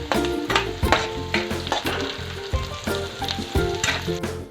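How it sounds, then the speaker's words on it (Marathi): Onion and green chilies frying for poha, a close, loud sizzle with rhythmic stirring strokes scraping the pan at a steady pace throughout. "मिरची आणि कांदा अजून थोड्या वेळ फ्राय होऊन देऊ"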